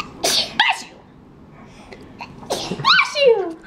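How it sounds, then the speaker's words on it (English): A baby sneezes twice in quick succession, close and sharp, with small breathy sounds and a brief adult voice between. "There's not much cuter than baby sneezes."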